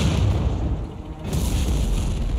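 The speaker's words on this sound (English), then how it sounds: "they were shooting artillery at us" Artillery fire in a wartime battle setting, a dense, heavy rumble of booms and blasts that fills the whole stretch, loud and continuous with a brief dip in the middle.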